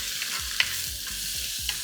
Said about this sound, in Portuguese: Vou mexer essa cebola.